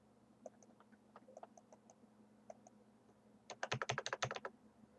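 Keys clicking on a computer keyboard while entering commands in a terminal, first a few scattered taps, then a fast, loud burst of rapid keystrokes near the end over a steady low hum.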